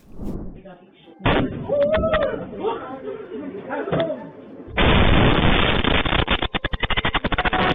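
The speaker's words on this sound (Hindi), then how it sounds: "यह 1 मिनट का वीडियो है, धमाके पर धमाका, धमाके पर धमाका" Explosions during an Iranian missile attack on Israel: loud booming blasts and crashing bursts, with a heavy roaring rumble toward the end, while excited voices shout nearby.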